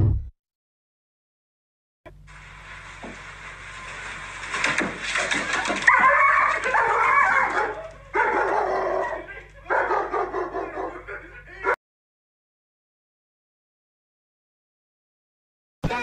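A dog reacting to fizzy soda, barking and yipping in bursts with whimpering between them, close and loud after a quiet start, while people talk and react in the background.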